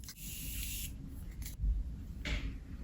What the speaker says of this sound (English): take my setting spray that I'm going to be using, and I'm just going to go ahead and spray my face